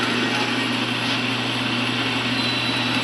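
Brand-new motor of a Rong Fu 5" x 16" manual step-pulley horizontal band saw running steadily at idle, a constant close hum with a high whine, no voices.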